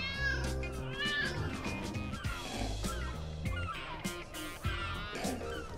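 A cat meows repeatedly in the Lego City Undercover video game, several drawn-out, insistent meows and wails close up over a bed of game music and effects.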